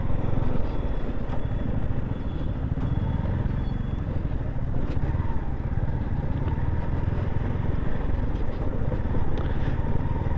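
Motorcycle riding along an unpaved dirt track toward the Umbarkhind battlefield, a steady loud engine drone with rumbling low end and constant road clatter, continuous and close throughout with no pauses.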